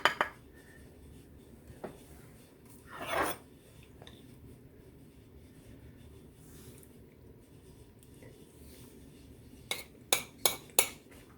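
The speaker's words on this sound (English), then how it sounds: "I'm just going to scoop this in here to get a taste" A utensil scoops crockpot green split pea soup with ham into a bowl: a couple of scrapes near the start, then a quick run of close, sharp clinks at the end over a quiet background.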